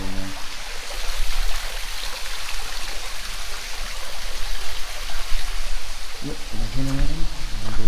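Stream water flowing near the Devil's Icebox cave, a loud, close, continuous rushing; a voice speaks briefly near the end.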